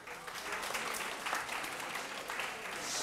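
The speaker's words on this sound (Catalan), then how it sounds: "Un aplaudiment." Studio audience applause on a Catalan word quiz show, a dense steady wash of clapping throughout, moderately loud and without speech over it.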